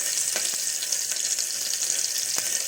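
Small paneer cubes frying in a pan give a bright, even sizzle that runs steadily throughout, with faint crackles popping through, heard up close and without any voices.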